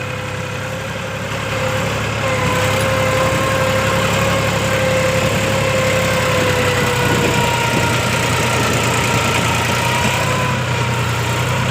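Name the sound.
tractor engine running during GPS land levelling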